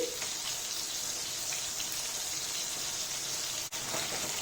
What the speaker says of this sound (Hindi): माछ के कनी तेजे आंच पर फ्राई करबे जैसे टूटे नहीं मछली।